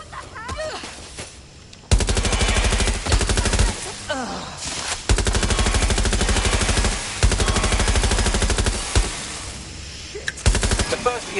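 Sustained automatic gunfire in Watch Dogs: Legion rattles in long, loud bursts broken by short pauses, with game voices and combat noise mixed underneath.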